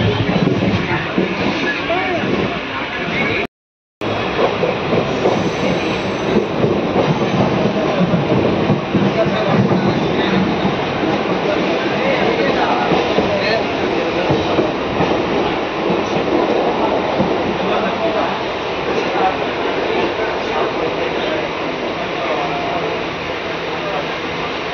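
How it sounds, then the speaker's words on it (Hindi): Train at Bengaluru Cantonment railway station, a loud continuous rumble of rolling rail cars with clattering wheels close by, steady throughout apart from a brief dropout near the start. "और ये है बेंगलुरु कंटोनमेंट का रेलवे स्टेशन"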